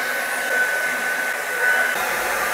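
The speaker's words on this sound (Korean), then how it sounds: "그래서 히팅 거는 아니고 드라이기로 살짝 데워주네요." A hair dryer gently warms a car emblem on a Hyundai Santa Fe to loosen it for removal. It gives a loud, steady whirring blow close by that holds constant until it cuts off at the end.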